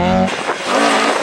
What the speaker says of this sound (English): This superbly prepared race car was an audible and visual delight